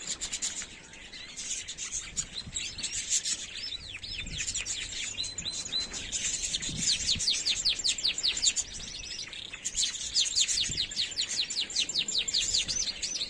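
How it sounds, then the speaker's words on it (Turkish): A canary sings continuously, rapid trilling warbles and chirps repeating close by over a soft background hiss. "Kanaryamız da bize şov yapıyor."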